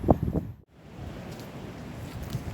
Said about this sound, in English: You can hear that wind buffeting the edge of the forest, can't you?